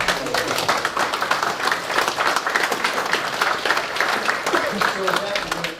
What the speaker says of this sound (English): I think we need to give them a little round of applause.